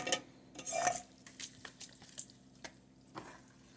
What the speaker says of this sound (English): So I'm just going to dump this in. Stir it up really well.